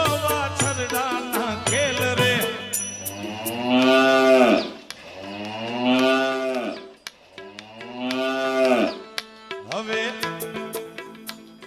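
Calves moo loudly in several long, drawn-out calls with brief gaps between them, close by, with no talking over them.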